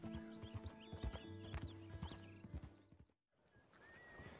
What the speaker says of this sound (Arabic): راح يكون الحصان يمشي لحاله وراح يوصلك للمنطقة اللي تبغاها